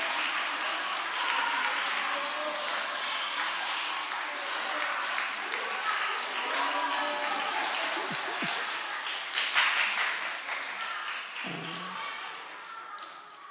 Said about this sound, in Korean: 15초 동안 큰 소리로 박수 치면서 옆에 사람들과 인정사정 없이